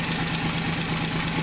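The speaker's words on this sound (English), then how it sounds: "And I idled the engine down" A 1960s–80s Mopar slant six engine idles low and even, a steady close rumble with a regular mechanical pulse and no voices.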